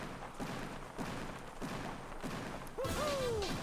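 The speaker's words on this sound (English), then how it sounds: "Fireworks for Super Mario" Victory fireworks for Mario in Mario Party 8, a run of muffled booming pops at roughly half-second intervals, followed by a rising whistling streak near the end.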